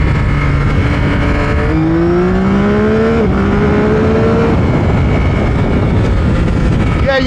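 A Yamaha XSR900 GP motorcycle accelerates hard, its engine note climbing steadily in pitch through a gear with a brief dip at a shift, loud and close with wind rush throughout.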